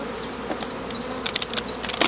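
Honeybees buzzing around an open hive during an inspection, a steady near hum with individual bees darting past the microphone, and occasional soft knocks and rustles.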